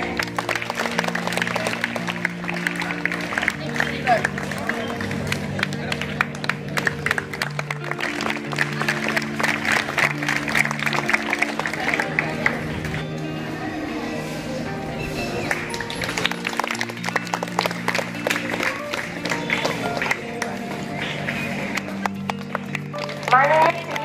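An audience at a Guru Purnima function claps to welcome the event's chief guest, a long run of brisk, dense applause under music and voices, with a brief lull near the middle before the clapping picks up again.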